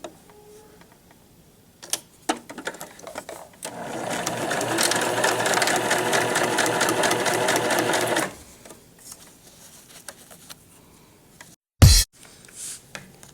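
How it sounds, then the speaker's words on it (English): A sewing machine stitches a Kleenex cozy in one steady, loud, rapid run lasting several seconds, bracketed by brief clicks and handling sounds. "Gonna sew the other side."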